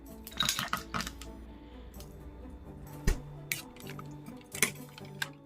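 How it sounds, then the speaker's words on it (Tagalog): Ice cubes dropped into a homemade melon drink mixed with condensed milk, giving scattered clinks, clatters and a heavier thud at close range with no talking. "At maglagay tayo ng ice."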